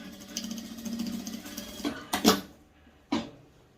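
A domestic sewing machine stitching a child's dress runs in a short burst, followed by a few sharp handling clatters and knocks, close and fairly quiet.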